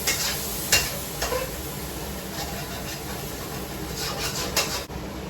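Okra (bhindi) frying in a pan while being stirred in a home kitchen, with a steady soft sizzle and a few sharp scraping strokes from the spoon, close and moderately loud, no talking.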